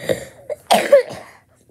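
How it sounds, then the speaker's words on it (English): A single person coughs a few short bursts in quick succession, close and clear, then silence. "Sorry, I had a cough."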